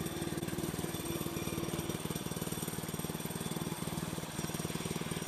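A portable bandsaw mill's engine runs at full throttle, a steady loud chugging drone with a fast regular pulse, close and continuous throughout.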